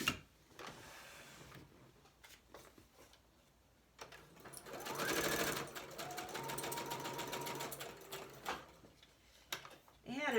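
A sewing machine stitches a floral mixed-media piece in a steady whirring run lasting a few seconds, close and moderately loud, with soft handling clicks before and after.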